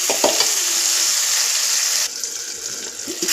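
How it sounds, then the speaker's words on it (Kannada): Field bean pods fry in a pan with a steady, close sizzle, and a few quick stirring clinks come near the start. "ನೀಟಾಗಿ ಫ್ರೈ ಮಾಡ್ಕೊಳ್ಳಿ ಬೇಯಬೇಕು ಅದು ಅಲ್ಲಿ ತನಕ ಫ್ರೈ ಮಾಡ್ಕೊಳ್ಳಿ"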